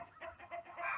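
Blue Orpington chickens cluck in a short run of soft, rhythmic calls, fairly near.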